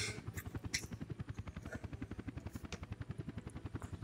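A helicopter in the Workers and Resources: Soviet Republic video game gives a steady, fast rotor chop, rhythmic thumping pulses heard fairly faint and alone.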